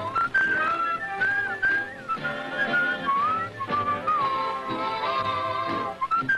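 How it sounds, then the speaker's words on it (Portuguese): Whistling in a Woody Woodpecker cartoon: a clear, bright melodic tune of sliding and wavering notes carries over soft musical accompaniment, with no talking. "O assobiador."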